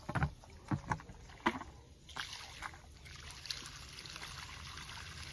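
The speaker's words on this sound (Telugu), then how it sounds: "నీళ్ళు వేయడం అయితే మీకు చూపిస్తున్నాను ఫ్రెండ్స్" Water poured onto freshly sown coriander seeds in a field gives a few sharp splashes at first, then settles into a continuous soft pouring and sloshing.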